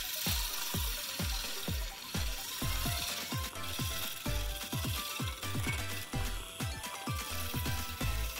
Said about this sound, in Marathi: तर इथे आता हा माझ्याकडे फ्रॉदर आहे, त्याच्याने मी थोडंसं हे फिरवून घेणार आता